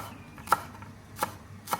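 Three distinct knife chops cutting spring onions into small pieces on a board, spaced unevenly and sharp, with quiet room sound between and no talking.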